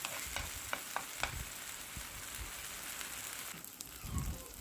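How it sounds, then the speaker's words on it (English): Green masala paste frying gently over a low flame for a prawn curry, a soft continuous sizzle with light spattering pops and a faint stir near the end. "So we'll ensure that this paste is nicely cooked. Cook it on a low flame for a minute or two."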